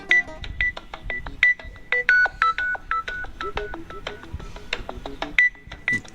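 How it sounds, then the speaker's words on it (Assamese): A phone rings with a quick series of short electronic beeping tones that shift in pitch. The tones come loud and close in a choppy pattern. "এতিয়া আকৌ কোনে ফোন কৰিছে"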